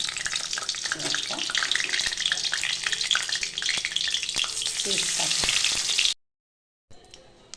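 Loud, crackling sizzle of a dried red chilli frying in hot oil in a wok, continuous for several seconds, then abruptly cutting off and returning faintly.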